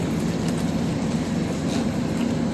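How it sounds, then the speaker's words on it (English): A train rumbles with a steady, dense low roar and faint rhythmic clatter, heard close by just after a passenger steps off onto a Long Island platform. "Just got off the train."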